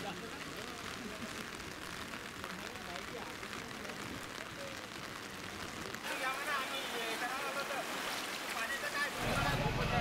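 Heavy rain in Washim district with a flooded river, a steady broad wash of rushing water and downpour that grows louder and rougher partway through, with no talk over it.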